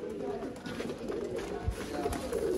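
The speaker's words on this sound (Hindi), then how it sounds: "सब्ज़ मोतियों वाले दोस्तों कबूतर" Pigeons coo in soft, low, throaty murmurs that overlap continuously, close by, with a faint background hiss.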